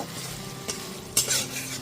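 Masala for fish-head moong dal being stir-fried in oil, a close sizzle broken by a couple of spatula scrapes against the pan, the last one loudest, with no voices.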